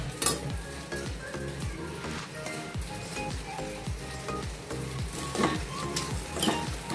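Whole stuffed brinjals fry in hot oil in a pan over medium-high gas, a steady bubbling sizzle with occasional clinks of a utensil against the pan.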